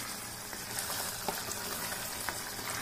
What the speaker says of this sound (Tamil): இந்த மாதிரி பக்குவத்தில் தான் இது கொதிக்கணும்.